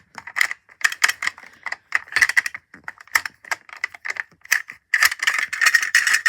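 The bolt dust cover on a Nepalese Peabody rifle is worked by hand, giving a series of sharp, close metallic rattles and clicks in irregular bursts with short pauses between them.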